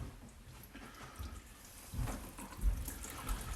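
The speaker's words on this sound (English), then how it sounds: "just rinse it off under the tap and then put it into your tray like so." Water runs from a kitchen tap as salted pork is rinsed under it, a quiet splashing stream with a few louder gushes and drips toward the end.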